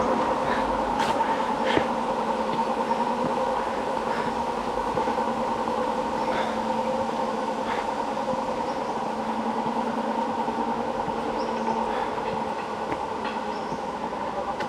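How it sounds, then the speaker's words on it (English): Penang Hill funicular train passing nearby, a steady rumbling hum with droning mechanical tones and occasional clicks and clacks along the track, continuous and fairly close. "bleeping train."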